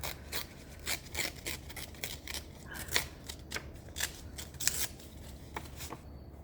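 Paper being torn by hand for a junk journal, a series of short dry rips and rustles coming close and fairly quiet, with no one speaking.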